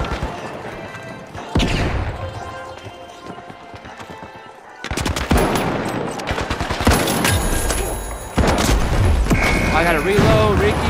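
Repeated bursts of gunfire in the video game The Finals, loud and close, with rapid shots, booms and mechanical clatter layered over game effects and occasional talking.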